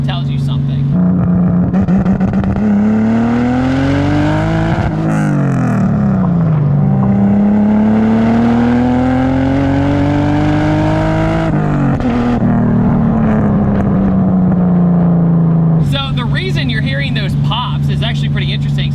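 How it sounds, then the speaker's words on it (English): A single-turbo BMW 328is on Mega Squirt engine management revs hard through gears, its engine note climbing and dropping between shifts with sharp pops, loud and close from the cabin, with a voice talking over it. "the reason it's popping like that in between shifts is that it has programmed in flat foot shifting"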